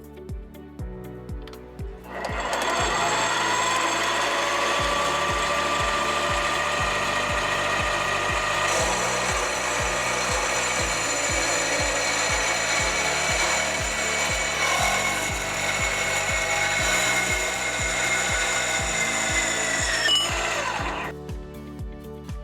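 A power tool whines steadily as it cuts through aluminum T-slot extrusion for about eighteen seconds, loud and continuous over a rhythmic mechanical thumping.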